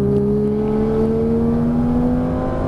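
A Lamborghini Gallardo at full throttle on the Lédenon circuit, its engine note rising steadily in pitch as it accelerates, loud and close, with no talk.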